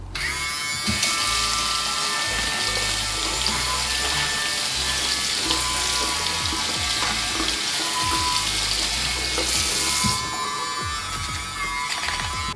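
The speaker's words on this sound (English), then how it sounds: "see how if you guys get water on here, it is completely fine" Water running and splashing steadily over a waterproof Panasonic nose and ear hair trimmer, probably from a tap, with the trimmer's motor buzzing underneath, loud and close throughout.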